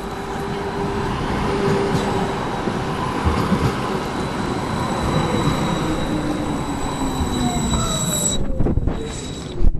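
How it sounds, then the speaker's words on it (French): A tram passes by outdoors, a loud continuous rumble of rail wheels with faint squealing tones rising and fading, steady for about ten seconds with background bustle and no talk. "Le tram."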